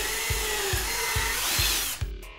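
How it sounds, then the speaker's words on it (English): A power drill boring a 1/4-inch hole in a wood rail whirs steadily at close range, with a faint thump recurring every half second, then winds down and stops near the end. "drill a 1/4-inch hole on the marked spots"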